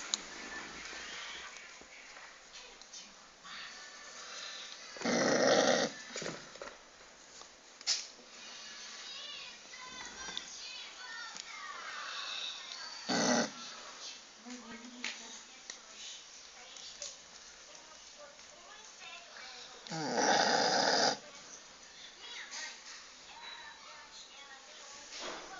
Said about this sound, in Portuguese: vou botar a cachorra que mais ronca no mundo